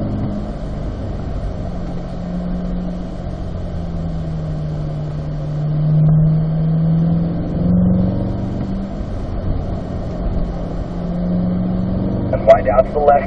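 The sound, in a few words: Chevrolet Corvette C8 engine accelerating up through gears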